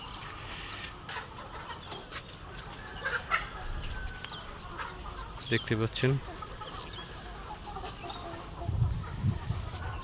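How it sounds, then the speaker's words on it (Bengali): Chickens on a commercial poultry farm cluck and squawk in scattered bursts at moderate distance, with a person talking now and then over a steady background hum. "মুরগিগুলো অনেক ফাঁকা ফাঁকা আছে"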